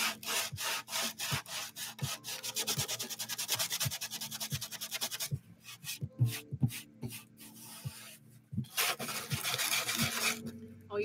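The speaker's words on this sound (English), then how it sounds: "you know it's got to be sanded when you hear" Something is sanded by hand in steady, rhythmic back-and-forth strokes, close and loud. The scraping speeds up partway through and grows denser, and there is no talk.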